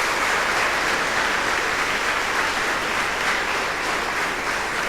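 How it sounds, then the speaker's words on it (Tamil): Loud, dense applause from a school audience at a student guidance event, a steady unbroken roar of many hands clapping together that holds for the full stretch, with no voices heard. "இப்ப கைத்தட்டு."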